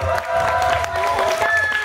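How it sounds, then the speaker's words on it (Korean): At a K-pop group's showcase, an indoor audience claps and cheers in a brief burst, dense applause with a voice faintly over it. "다시 한번 우리 멤버들 힘낼 수 있게 박수 한번 드릴까요?"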